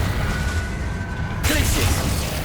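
The Confringo fire spell from Hogwarts Legacy goes off in a sudden loud burst, a booming crackling explosion that cuts in sharply after a low rumble and keeps sizzling for a second, with a voice around it.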